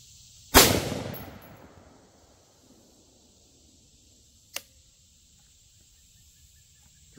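A rifle fires a single 5.56 SS109 round from New Republic ammunition: one loud, sharp crack at the start with a decaying tail, followed seconds later by a much fainter distant snap.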